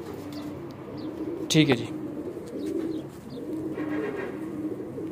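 Flying pigeons coo in low, repeated throaty rolls throughout, close by, while someone speaks briefly partway through.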